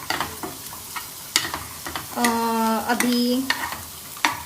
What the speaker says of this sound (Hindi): ये है कांदा जो फ्राई हो रहा है, इसमें रेड रेड चटनी डाली हुई है हमने।